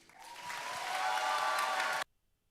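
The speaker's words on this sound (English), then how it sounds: "Another huge round of applause for all of our Woody Flowers Finalists Award winners and nominees." An audience claps and cheers for award winners and nominees at a robotics competition event, a dense steady wash of applause that swells and then cuts off abruptly.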